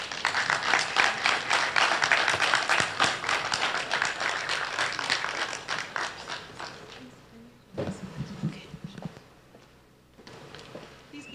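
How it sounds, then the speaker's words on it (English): Audience applause at a live film business forum, a dense burst of clapping that fades and thins out toward the end with a brief louder patch near the close. "Give her another round of applause."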